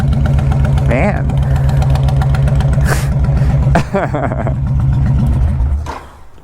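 A Honda Fury chopper motorcycle engine revs hard on the throttle close up, a loud steady roar with sharp rising revs and bounces near the rev limiter before dropping off at the end; someone speaks briefly.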